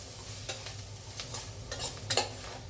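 Turmeric powder stirred into mutton kurma in a pan: a low sizzle runs underneath while a spoon scrapes and clicks against the pan in several irregular strokes, fairly quiet and with no speech.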